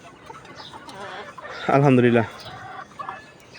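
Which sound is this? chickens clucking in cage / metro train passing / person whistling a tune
chickens clucking in cage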